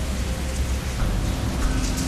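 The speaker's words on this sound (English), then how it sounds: "The rain is getting worse." Heavy rain pours down steadily at the Panama Canal during a ship transit, a loud, dense, continuous roar of falling water with no voices.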